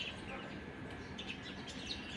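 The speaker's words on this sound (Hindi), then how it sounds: "यहाँ पर कबूतर और चिड़ियों की काफ़ी टाइम बाद में मैं आवाज़ सुन रही हूँ" Pigeons and sparrows call faintly outdoors in Delhi, thin scattered chirps and tweets drifting over a low, steady background hum.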